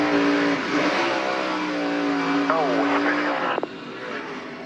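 A race truck's engine revs hard on an oval track during a 2011 North Carolina Education Lottery 200 race, a loud sustained roar with shifting pitch and a brief spike near the end, heard under a commentator's voice.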